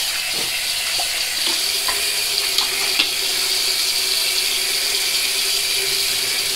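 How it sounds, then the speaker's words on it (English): Tap water runs steadily into a sink during washing up after shaving with a short-handled Merkur 37C slant bar razor, a continuous close, even hiss with faint clinks and no talking. "All right, let me wash up again."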